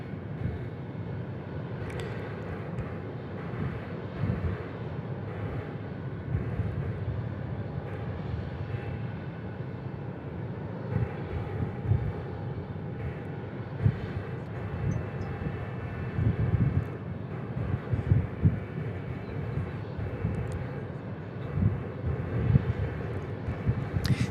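An airliner flying at Tucson International Airport, a steady, moderately distant jet engine rumble with some wind buffeting, heard alone and fairly faint.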